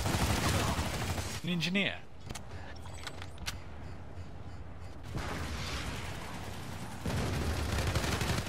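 Gunfire in the online shooter Planetside 2, with bursts of rapid shots loud in the opening seconds, then quieter stretches and renewed firing near the end, while a player talks briefly.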